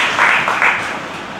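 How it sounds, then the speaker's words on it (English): An audience at a medical college batch get-together breaks into applause, a dense, loud wash of clapping that swells briefly and then fades over a second or so. "So round of applause for every one of us."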